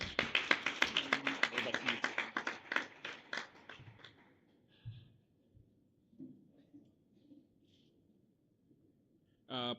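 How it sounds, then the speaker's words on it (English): A small audience at a university talk on AI and technology in the financial sector claps for about four seconds, close and crisp, then fades to a quiet room with faint murmurs and a brief noise at the end. "Let's give him a round of applause."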